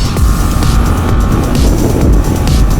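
A BMW G 310 GS single-cylinder motorcycle at full throttle drones loudly and steadily, its engine throbbing under heavy wind rush.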